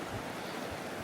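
Steady, faint rush of a creek flowing along a desert trail in hot weather, an even wash of water noise with no voices.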